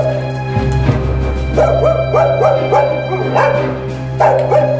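A dog barks repeatedly at close range, a string of sharp, loud barks in an uneven rhythm over a steady low background hum.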